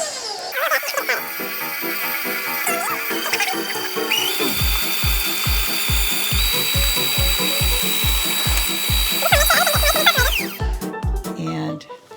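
Electric stand mixer with a paddle beating cupcake batter: a steady loud motor whir with a rhythmic thumping pulse of the paddle, running throughout with faint talking underneath.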